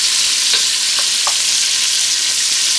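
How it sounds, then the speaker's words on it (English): Chopped onion sautéing in a pan for Jamaican seasoned rice, a constant close sizzle with a few soft stirring taps, no voices. "Saute it for a minute or so until the onion becomes transparent."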